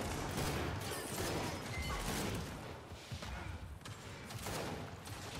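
Gunfire in the video game Gears 5 during a ranked free-for-all match, a faint, busy wash of shots and impacts with clustered bursts rolling on throughout.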